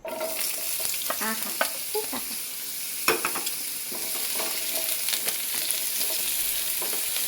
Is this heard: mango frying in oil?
yes